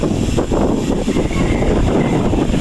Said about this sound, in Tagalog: Salpok ng hangin, malamig.